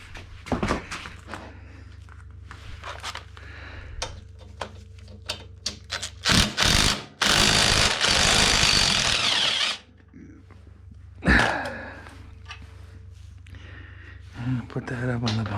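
A power tool whirs in short bursts while removing a muffler in a garage, with one sustained loud run in the middle and clanks and handling noise between, under occasional talk.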